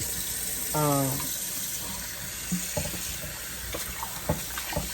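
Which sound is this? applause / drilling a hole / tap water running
tap water running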